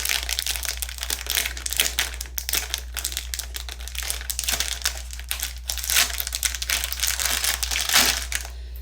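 A makeup haul package being opened, with close, steady crinkling and crumpling of packaging as it is torn and unwrapped, the rustling continuing in dense bursts without talk over a low constant hum.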